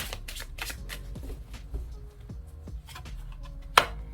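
Tarot cards are shuffled close up in a rapid series of crisp riffling flicks and soft taps, ending in one sharp snap, with no talking.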